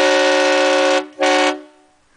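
A loud train horn blasts in one long sustained tone, breaks off for a moment, then sounds a second shorter blast before cutting out and fading into quiet outdoor air.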